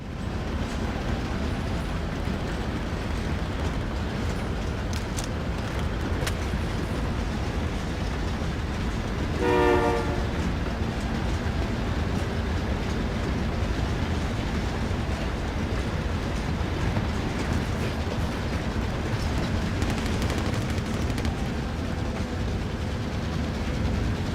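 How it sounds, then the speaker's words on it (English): A train rolling past in the video game Warzone, a steady rail rumble throughout, broken by a short horn blast about midway. "the only thing I like more than a train is riding alongside of trains"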